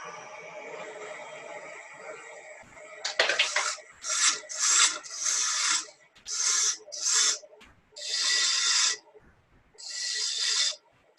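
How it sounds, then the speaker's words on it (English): A 1/4 inch ball gouge cuts a wooden finial spinning on a lathe, heard as a run of rough, raspy scraping bursts with short pauses between, close and fairly loud after a quieter hum from the machine. "So we'll just turn this using the 1/4" ball gouge."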